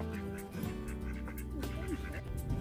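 Ducks quacking softly in a cluster nearby on the Norfolk Broads at Potter Heigham, their calls mixed with outdoor background noise and some voices.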